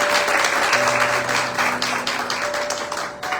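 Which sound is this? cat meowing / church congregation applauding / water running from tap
church congregation applauding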